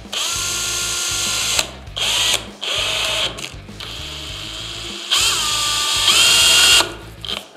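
A power drill drives screws with a 3-10 bit, in repeated whirring bursts of one to two seconds separated by short pauses, loud and close with a ratcheting clutch-like rattle, no talking.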